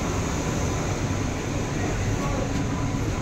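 An AC local train on the Sealdah to Ranaghat line, a continuous steady rumble of the moving train heard up close with no breaks.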